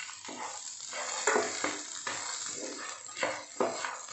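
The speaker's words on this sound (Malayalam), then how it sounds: "ഇനി നമുക്ക് വറുത്ത് വെച്ചിരിക്കുന്ന ബീഫ് ചേർക്കാം." Fried beef is stirred into fried rice in a hot pan: a constant oily sizzle broken by repeated scraping stir strokes, close and moderately loud, with no talking.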